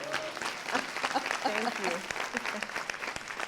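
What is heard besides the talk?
audience round of applause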